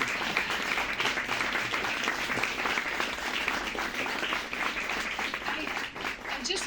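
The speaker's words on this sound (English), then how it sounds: "so let's give them another round of applause." An audience at an academic publishing panel discussion claps steadily, the applause sustained at a moderate level and tapering slightly at the end.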